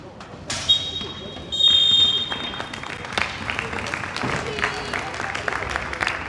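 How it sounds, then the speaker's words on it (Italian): A crowd at a women's roller hockey game between Pumas Viareggio and Hockey Valdagno at Pala Marzatti claps in scattered, moderately loud bursts, with a shrill buzzer or whistle tone early on and arena chatter beneath. "Gli applausi del pubblico accorso"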